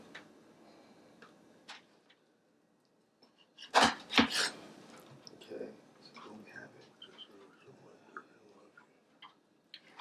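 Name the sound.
knife slicing salmon fillet into pieces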